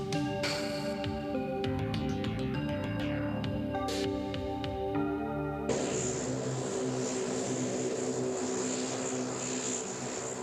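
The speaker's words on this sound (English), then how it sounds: "Heading right for the eye of the storm is NOAA's reconnaissance plane, now within 100 miles of its target." A NOAA reconnaissance propeller plane flying toward a hurricane drones loudly and steadily, its engine hum dense and constant, joined midway by a broad rushing wind noise.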